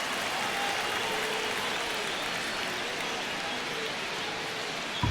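Stadium crowd in MLB The Show 25 during a tense ninth inning of a Blue Jays vs. Mets home opener, a constant dense roar of many voices with no break or swell.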